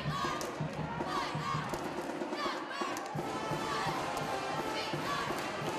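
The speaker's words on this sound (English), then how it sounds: "Crowd is fully into the game with a Wyoming timeout" A packed gym crowd roars and cheers loudly and steadily during a timeout at a Northwest vs Wyoming varsity men's basketball game, with shouts and stomping mixed into the dense noise.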